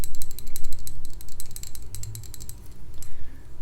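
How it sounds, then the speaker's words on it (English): Small chalk pieces rattle and clink inside a little handmade clay pinch pot, making a steady run of quick, delicate close-up clicks with no talking. "I thought the chalk make nice sounds, delicate sounds, in this little pinch pot thing I made."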